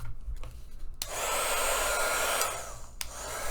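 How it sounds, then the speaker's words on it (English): A heat gun blows steadily while drying paint on a stencilled mixed media art piece, a loud, even whooshing hiss that starts after a brief quieter moment and runs on, close by. "I'm going to take my heat gun and dry this"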